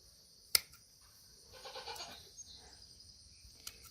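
A goat gives one brief, faint bleat while its hooves are being trimmed. The bleat sits in a quiet setting, with a sharp tap before it and another light tap afterward.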